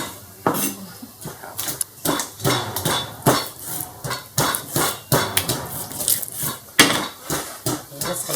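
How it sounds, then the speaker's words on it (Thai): Garlic is pounded in a mortar while preparing seasoned fermented tilapia, heard as repeated close, sharp thuds in a steady, slightly uneven rhythm. "โขลกกระเทียมพอบุบๆมันจะได้หอม"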